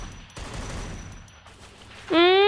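Gunfire in the Free Fire mobile battle royale game, a rough burst of rapid shots followed by a loud rising electronic tone near the end, close and without talk.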